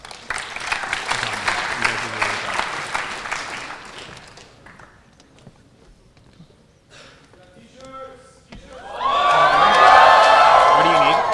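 An audience at a hackathon closing ceremony applauds with dense, steady clapping for several seconds, then quiets, and the applause and cheering swell again loud and close toward the end.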